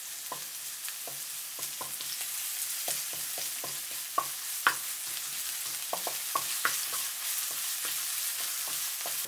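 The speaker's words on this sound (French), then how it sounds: "Quand l'huile est chaude, je mets les gingembre râpés et l'ail haché. Je remue de temps en temps." Grated ginger and chopped garlic frying in hot sunflower oil, a steady bright sizzle broken by frequent small pops and spatters while being stirred now and then.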